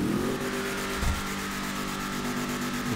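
Tahoma Coupé in GTA Online with a level 4 engine and big chrome titanium exhaust, revving in a steady, loud drone with a brief low burst near the middle, no voices over it.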